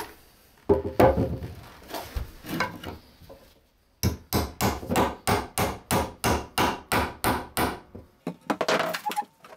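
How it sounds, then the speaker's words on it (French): Hammer driving nails into the wooden frame of a children's playhouse, attaching its legs: a first loose cluster of blows, then a steady run of about a dozen sharp, evenly spaced close strikes, with a few quicker taps at the end. "Je pense que du coup on va les clouer peut-être de l'intérieur,"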